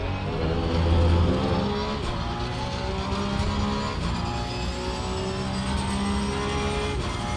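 A Porsche Cup race car engine drones and revs in Assetto Corsa Competizione, held at a steady high whine with pitch shifts as it accelerates through gears, loud and continuous.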